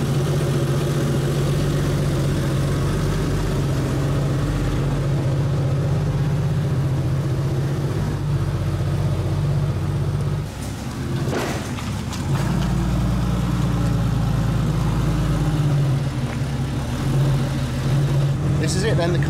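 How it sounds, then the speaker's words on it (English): A Porsche 993 C4S engine idles with a steady low rumble throughout, with a brief dip and some clatter near the middle. A voice talks over the engine at times. "What we're going to do now is obviously drive this car out of FCD."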